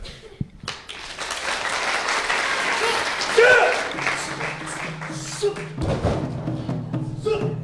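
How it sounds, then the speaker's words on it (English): Audience applause rising and sustained for several seconds at a student Chinese language competition, with a thud near the start and a voice speaking into a microphone under the clapping toward the end. "So I'd like to give you a round of applause."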